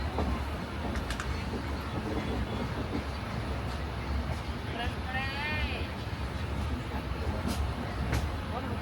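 A moving passenger train on a Mumbai-to-Nanded journey gives a low, steady rumble and rattle inside the coach, heard quietly under people talking, with a brief whistling tone partway through.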